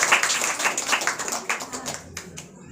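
A classroom of students claps together in a short burst of quick, uneven hand claps that tails off over a couple of seconds, close by and lively.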